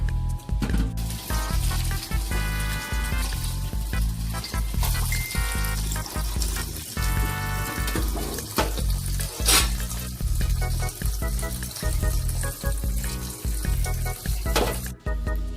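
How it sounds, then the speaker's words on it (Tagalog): Chicken breasts sizzling in a pan while being stirred, a steady frying hiss with scraping and occasional clinks of the utensil, close and continuous, alongside running water from a nearby tap. "Stir the chicken breasts and fry it until it's brown."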